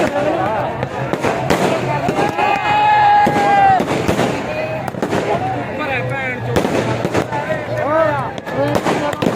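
Sharp firecracker bangs go off in rapid, irregular bursts, close and loud, while people shout and talk excitedly throughout at a farmers' protest at the Shambhu border.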